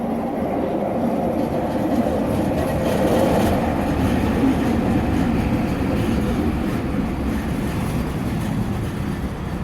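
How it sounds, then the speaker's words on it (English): A train at a platform rumbles steadily and loudly, with a continuous low roar and faint rail rattling throughout, and no voices. "Train."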